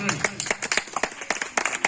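Scattered hand claps from an audience at a Diwali gathering in Dhamtari, Chhattisgarh, sounding close and uneven, with a voice speaking over them.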